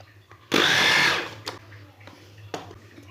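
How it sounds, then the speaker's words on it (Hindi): A kitchen grinder briefly whirs, pulsing ingredients for aloo palak: one loud burst lasting about half a second, followed by a few short faint pulses, close by with no talking. "अब इसे ग्राइंड कर लेंगे। इसे फुल ग्राइंड नहीं करना,"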